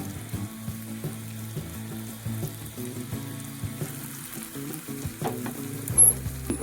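Slices of bitter gourd frying in a pan give a steady, close crackling sizzle, with occasional clinks and stirring scrapes over the hiss.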